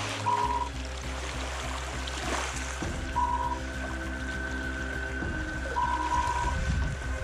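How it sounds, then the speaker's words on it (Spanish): Sea waves wash and trickle along the shore at very low tide, a steady watery rush with light, continuous texture, heard alone without talk. "Fijaos lo que hace el mar"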